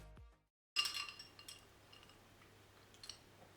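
A spoon stirs a glass of coffee with oat milk, giving one crisp clink against the glass followed by a few fainter taps in a quiet room.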